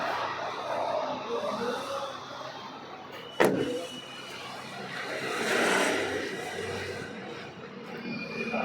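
A power window on a 2011 Alto K10 petrol car whirs as it moves, with a sharp thump partway through and a steady motor drone afterward, heard close up inside the car.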